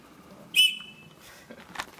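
A single short, shrill trench whistle blast, fairly close, followed by faint rustling and handling noises.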